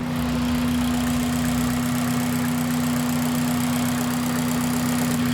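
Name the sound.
Honda Civic engine idling, sounding knocky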